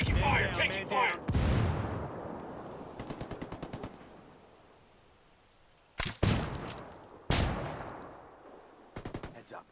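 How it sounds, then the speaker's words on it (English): Rapid automatic gunfire in Ghost Recon Wildlands, with loud bursts and single cracks separated by quieter gaps, some shots ringing out close and others echoing farther away. "Guys, I'm taking fire! Taking fire!"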